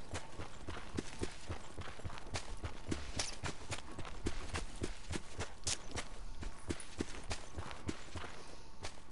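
Footsteps patter quickly and steadily in a multiplayer survival video game, close and fairly loud. They run for the whole stretch over a constant background rumble, with no voices.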